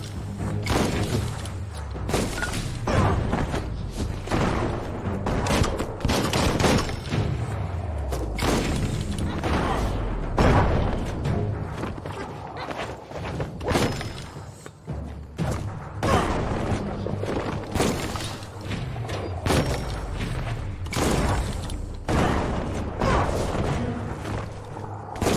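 Repeated bomb blasts and heavy thuds from a bomb lobber enemy in Biomutant burst throughout a dense, continuous stretch of combat noise, with booms landing every second or two.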